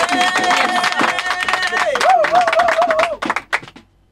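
A congregation at a prayer service claps rapidly and cheers in a dense burst alongside a singing voice, then the clapping thins out and fades.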